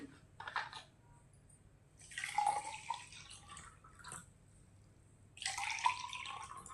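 Two short bursts of water pouring into two glasses, splashing and gurgling, separated by quiet pauses.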